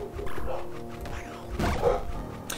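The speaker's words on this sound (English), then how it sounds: "my dogs are barking at Lord knows what outside" Dogs bark in short bursts somewhere nearby, somewhat muffled, with a low background rumble between the barks.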